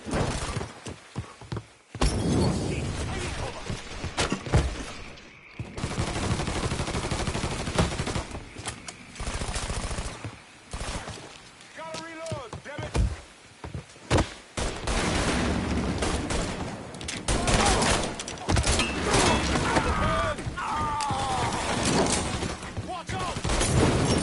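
Sustained machine-gun and rifle fire in the Mafia III video game, loud and near, with rapid bursts, heavy impacts and shattering. Excited shouting voices run over the fighting throughout.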